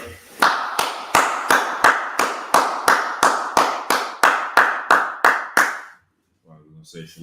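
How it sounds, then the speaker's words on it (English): A group clapping in unison during a religious teaching session, about fifteen sharp, evenly spaced claps in a steady rhythm, then a stop followed by a brief voice. "Let's clap it up."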